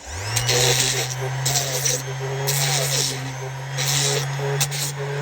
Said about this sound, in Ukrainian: Далі шліфуємо.